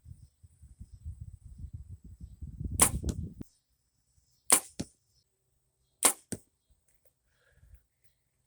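Arrows loosed from a budget bow outdoors, three sharp snapping releases spaced about one and a half seconds apart, each with a quick twang and faint follow-up thud, after a stretch of low rustling and handling noise.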